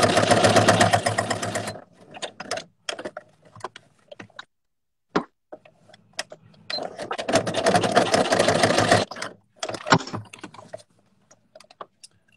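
Sewing machine stitching a leather pouch in bursts: a long run of rapid stitching, scattered single taps and short stops, then a second long run before a few isolated clicks, close and clear with no talking.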